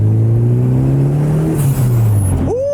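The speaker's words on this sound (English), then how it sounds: "it's got a blow-off valve" Boosted classic Porsche revving loudly up close, its engine drone holding steady before a sharp blow-off valve release whooshes out at the end.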